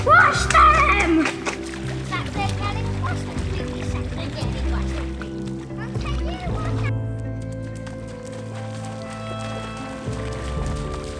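A child runs and splashes through shallow water at a wet outback campsite in Western Queensland, with bursts of splatter near the start, and children's and adults' voices talking over it throughout.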